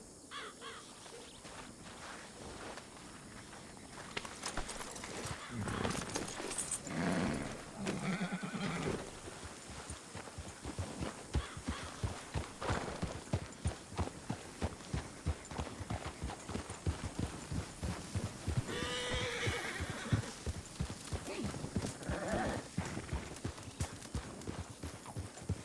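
An Arabian horse in a video game clip-clops in a quick steady rhythm of hoofbeats, with a loud whinny near the middle and crow-like caws and ambient sounds around it.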